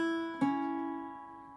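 A single plucked Irish bouzouki note rings out and sustains, one short phrase from Willie Coleman's Jig, clean and close with no voices.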